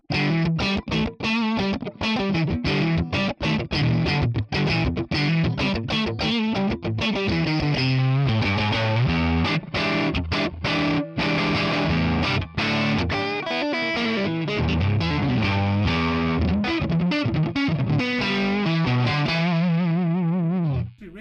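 Fuzzy electric guitar through a Tonex One modeling a 1958 Gibson G6 amp, played loud and continuous with choppy distorted riffs and chords, finishing on a sustained ringing chord.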